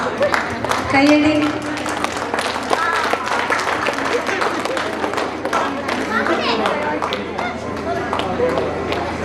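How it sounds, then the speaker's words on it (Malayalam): Applause and clapping from an audience at a Malayalam reunion event honouring a guest, steady crowd clapping with chatter and children's voices mixed in throughout. "കയ്യടി."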